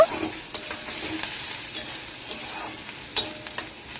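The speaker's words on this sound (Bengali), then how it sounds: "এবার আমি নাড়াচাড়া করে নিচ্ছি পেঁয়াজটা তো পেঁয়াজটা আমি খুব একটা লাল লাল করে ভেজে নেব না হালকা ভেজে নেব" Chopped onions frying lightly in mustard oil while being stirred, a steady soft sizzle broken by scraping clinks of a spatula against the pan, close and alone without talk.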